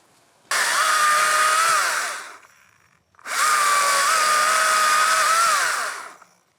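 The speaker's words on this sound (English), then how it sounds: "It's a battery chainsaw." A battery chainsaw runs in two bursts of about two seconds each, a steady high electric whir with a short pause between.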